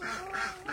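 Ducks give a brief, continuous burst of nasal calling close by, with no talking.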